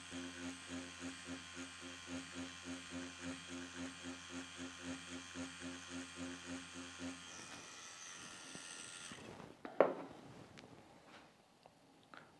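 A tattoo machine with a lining needle buzzes steadily on a practice mat, pulsing in a regular rhythm as it swings through brush or pendulum shading, then cuts out, followed by a few faint handling knocks.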